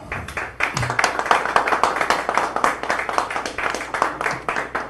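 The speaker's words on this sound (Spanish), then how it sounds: "Les brindamos un fuerte aplauso." A small audience at a university ceremony on transparency and privacy at the UNAM law faculty claps steadily and fairly close, with rapid, fairly even claps running for the whole stretch and few voices.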